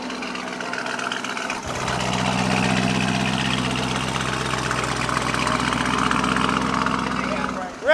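A supercar engine fires up and settles into a loud, steady idle, a deep rumble that holds evenly through the rest of the clip, with no change in revs.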